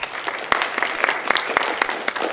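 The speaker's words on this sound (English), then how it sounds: "Go ahead, you can start the round of applause for them." Applause fills a school National Honor Society induction ceremony at Auburn High School, dense steady clapping from a seated audience with sharper individual claps standing out, no voices over it.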